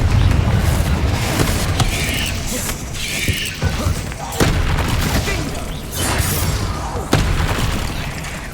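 Confringo fire-blast spell explosions in Hogwarts Legacy, loud booming bursts and mechanical clatter recurring through the clip, with a voice shouting spell names over the combat.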